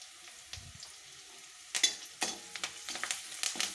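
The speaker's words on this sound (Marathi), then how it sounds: "2 मिनिटे असंच आपल्याला फ्राय करून राहायचे." Food fries quietly in a pan, a soft low sizzle broken by several close scraping and stirring bursts that grow busier toward the end, with no talk.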